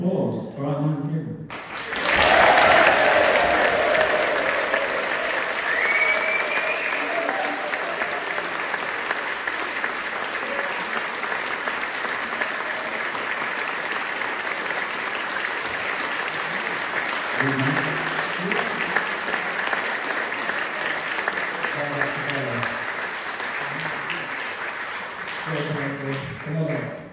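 An audience bursts into sustained, loud applause for Kieran, a thick steady clapping that runs for over twenty seconds, with a few voices and murmurs breaking through near the start and toward the end.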